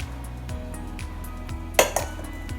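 Utensil scraping and clinking against a bowl while mixing ingredients in a home kitchen, soft repeated taps with one brighter metallic clink partway through, close and fairly quiet over a low hum.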